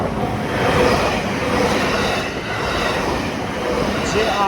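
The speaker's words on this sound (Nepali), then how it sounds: "हामी ट्रेन कुर्दैछौँ।" A JR Japan Railways train rolls through a station with a loud, continuous rumble close by, ending in a rising wheel squeal, while people talk quietly nearby.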